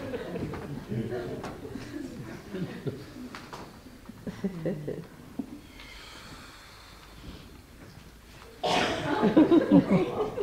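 Pigeons coo in low, soft, repeated murmurs close by, with speech in between and a louder, busier patch of cooing near the end.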